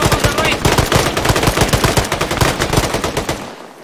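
Sustained automatic machine gun fire in Arma 3, a rapid unbroken stream of loud close shots running almost the whole way before cutting off abruptly near the end.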